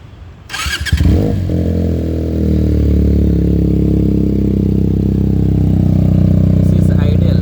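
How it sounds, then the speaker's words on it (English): A Benelli TNT 300 motorcycle fitted with an Akrapovic exhaust starts up and settles into a loud, steady idle close by, its deep rumble continuing without a break. "this is Benelli TNT 300 with Akrapovik exhaust"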